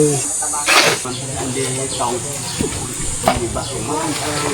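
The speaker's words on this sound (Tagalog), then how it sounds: "Hindi na pigilan yung malakas yung tubig eh." Strong, steady rush of running water hissing continuously, with faint voices talking underneath.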